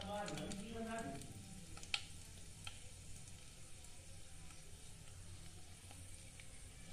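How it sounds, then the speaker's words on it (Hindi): Whole red chilies sizzle in hot oil in a kadhai, the first step of a bathua and methi saag; a steady close crackle and hiss continues throughout with a few sharper pops. "तेल गरम हो गया है तेल में डाल देंगे लाल साबुत मिर्च"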